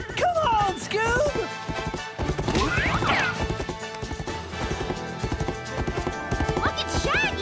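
Cartoon horses gallop in a rhythmic clip-clop during a cattle chase, loud and steady, with a whinny, crashes and overlapping music and effects throughout.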